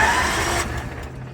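A 16 horsepower Kohler engine on a Craftsman Crusher mower runs loud and close, a steady rough drone that eases slightly near the end.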